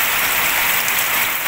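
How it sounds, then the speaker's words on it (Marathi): Heavy rain falls outside in a dense, continuous hiss that stays steady and loud throughout the brief moment. "हे पहा बाहेर आहे ना एवढं पाणी पडायला"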